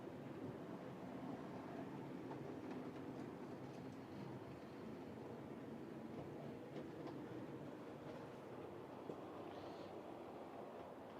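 A class 47 locomotive passes at a distance, producing a low, steady rumble with faint rail noise over about eleven seconds and no clear peaks.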